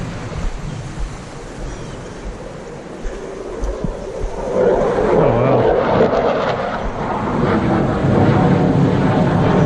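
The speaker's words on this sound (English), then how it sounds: "F-16 Fighting Falcon." An F-16 Fighting Falcon flies over training near Fort Sill in the Wichita Mountains: a distant low rumble that swells into a broad, louder jet roar midway and holds, with outdoor ambience beneath.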